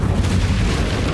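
A fire spell cast in Hogwarts Legacy on Nintendo Switch, heard as a loud, sustained, rumbling boom with steady low-end roar and no spoken voice.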